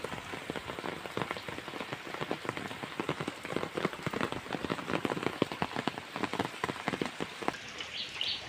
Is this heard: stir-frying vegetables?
no